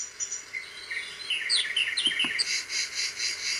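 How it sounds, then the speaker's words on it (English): Recorded bird song played from a Medisana WL444 wake-up light: bright, quick chirps and warbling trills over a faint hiss, fairly close and steady, with no talk. "To recap, the bird song."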